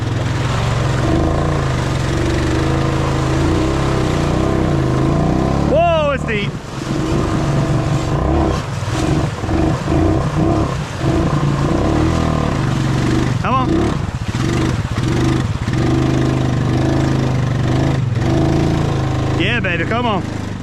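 A Honda Rubicon ATV engine runs steadily close by, with a rumbling drone that rises and falls as the throttle changes. A person talks over it at times.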